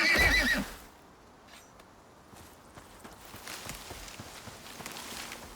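A horse in the Icarus survival game lets out a loud, close whinny in the opening second, then fades into quiet ambience with faint hoof clops and footsteps.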